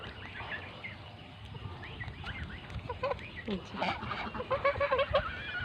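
Domestic geese honk in repeated short, nasal calls that grow louder and more frequent toward the end, with soft voices mixed in.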